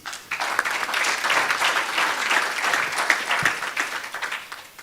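A round of applause for the panel at a green-themed conference session in Eswatini, with a room of hands clapping steadily and fairly loud for a few seconds before tapering off.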